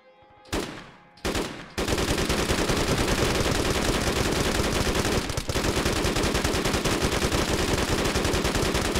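Gunfire in the video game DayZ: a couple of separate shots, then a long sustained burst of rapid automatic fire, loud and close, with no talking.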